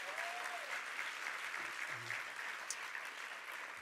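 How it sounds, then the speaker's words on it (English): Audience applause for honored poets at a poetry celebration, a steady, fairly soft wash of clapping with brief faint voices mixed in, lasting throughout. "So give them a round of applause now in advance."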